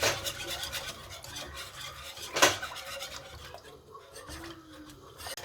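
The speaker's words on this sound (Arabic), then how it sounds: "وغادي نضيف هنايا الحشوه ديال البسكوي. نحرك." A spoon stirs a biscuit filling mixture in a bowl, giving scraping and clinking strokes with one sharper knock midway, then quieter rubbing toward the end; no voices.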